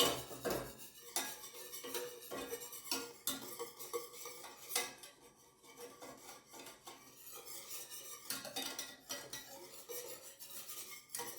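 A spoon scrapes and clinks against a pot while turkey pot pie filling is stirred. The irregular clatter comes up close, with only a faint sizzle underneath.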